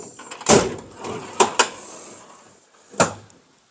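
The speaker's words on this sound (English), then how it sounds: "Now see, I just pulled this drawer out and I'm like, it's wonky coming out." A toolbox drawer is pulled out unevenly in a workshop, giving a few close, sharp knocks and rattles: one heavy clunk, a quick pair of bumps, then a final knock after a pause. No one speaks.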